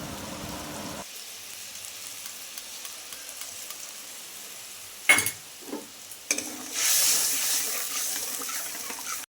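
Mustard paste, water and curd cooking in a pan for a tilapia curry produce a soft simmer, then a sudden splash and bubbling hiss as liquid goes in, ending in a louder sizzle.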